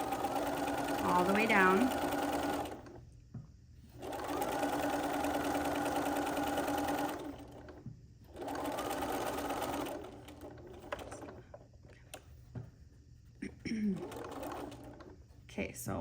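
Domestic sewing machine stitching the binding on a cross stitch pillow, running in three long steady bursts with pauses between. Near and fairly loud, with a person talking briefly over the start and in the quieter stretches.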